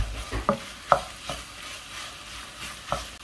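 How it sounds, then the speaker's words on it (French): Julienned vegetables with herbes de Provence and a little garlic are stirred in a frying pan over low sizzling, with a few distinct scraping clacks of the utensil against the pan and no talk. "On mélange encore."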